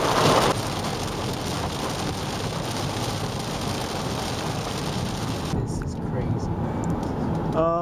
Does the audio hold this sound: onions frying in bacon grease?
no